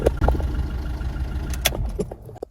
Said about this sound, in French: elle tourne pas tellement bien là, on sent qu'elle a des ratés